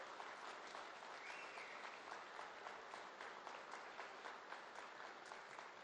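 Applause fills the hall at a general body meeting of an SBI staff credit society, a steady dense patter of many hands clapping at an even level from start to finish.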